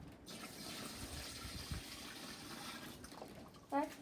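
Water pouring and splashing into a small washing machine, a low continuous trickle at modest level with a brief burst of louder splashing toward the end.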